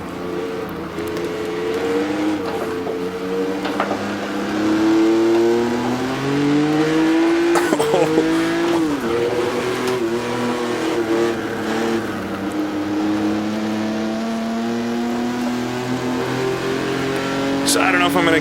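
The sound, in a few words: 1958 Formula One race car engine in Automobilista video game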